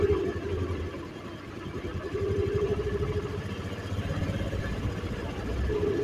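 A Honda Aviator scooter engine idles steadily at low RPM, a continuous close-up rumble with a soft pulsing throb that holds an even level throughout.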